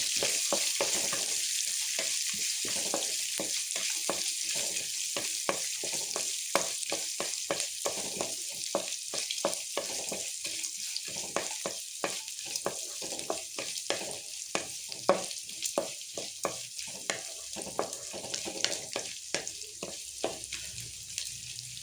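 Chopped onion frying in a pan for coriander-leaf chitranna rice, a steady close sizzle and hiss with frequent sharp scraping stir clicks throughout, no voices.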